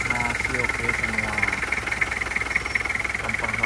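A 2003 Toyota Kijang Krista diesel engine idles close by with a steady, rapid clatter and a strong hiss, while someone talks over it.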